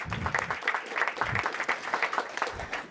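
An audience at a mayor's public briefing applauds for about three seconds, a dense continuous patter of many hands clapping at moderate volume.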